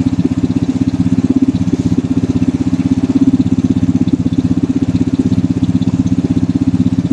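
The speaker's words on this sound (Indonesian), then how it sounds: "kita naikkan RPM sampai 2500 atau 3000 dengan cara memutar baut RPM" Carbureted motorcycle engine running steadily at raised RPM around 2500–3000 during a fuel system demonstration, a loud, even, rapid pulsing drone held close throughout with no talking.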